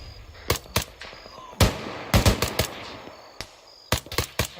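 Gunfire crackles in an Arma 3 military simulation firefight, with sharp single shots and short clustered bursts spaced irregularly. The loud, close reports ring out over a quiet background.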